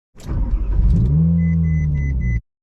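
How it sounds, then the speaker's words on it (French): A wrecked Ferrari 458 engine cranks and catches, then settles into a steady, loud low rumble close by for about two seconds before cutting off abruptly, with a faint repeating high beep over it. "on va faire tourner le moteur de cette pauvre voiture."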